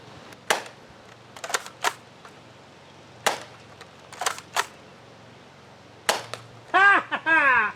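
In a video game, a K26 finisher fires a series of sharp, loud shots in short irregular bursts, spread across the stretch and ending with a quick cluster followed by a voice.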